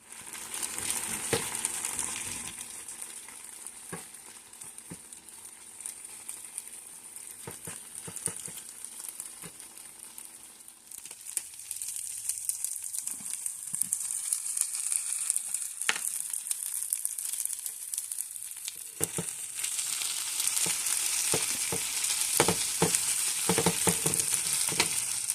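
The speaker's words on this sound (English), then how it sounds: "I'm going to fry the rice" Rice frying in a pan, a steady close hiss and sizzle running throughout, with repeated scraping and clacking strokes of a utensil stirring it, growing busier toward the end.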